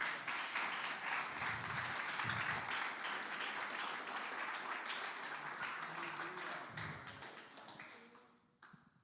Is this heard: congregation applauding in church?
yes